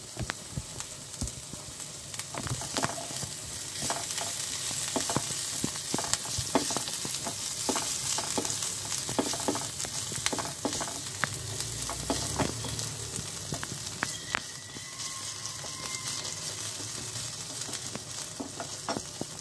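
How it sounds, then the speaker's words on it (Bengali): Ginger and green chillies fry in a pan with a pinch of asafoetida, a continuous close sizzle broken by frequent scraping clicks of a spatula stirring the mix, steady throughout with no talk. "আদা দিয়ে দিয়েছি, এটাকে সামান্য একটু ভেজে নেব। আর দিয়ে দিচ্ছি কাঁচা লঙ্কা।"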